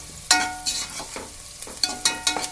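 Food frying in a pan until browned, with turmeric-tinted water stirred in, for a cabbage and green dal curry; a steady sizzle broken by several sharp bursts of stirring and scraping, close up, with no talk.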